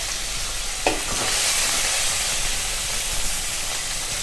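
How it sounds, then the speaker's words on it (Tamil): Tomatoes and curry leaves sautéing in a pan for egg kurma, giving a steady broadband sizzle with a brief stirring clatter near the start, close and continuous with no talking. "தக்காளி போட்டு நல்லா வதக்கலாம்."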